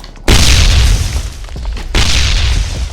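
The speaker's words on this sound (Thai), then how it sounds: "เอาคนที่ไหนเนี่ยมาปาระเบิดถึงขนาดนั้น" Two heavy, close grenade blasts go off in the video game Ring of Elysium, each a sudden loud boom followed by a rumbling tail, with no speech over them.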